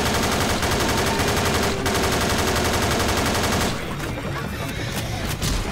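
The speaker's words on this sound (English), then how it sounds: "Minigun." A minigun in a zombie shooter game fires a dense, continuous rattle of rapid shots, loud and close, then breaks into shorter bursts toward the end.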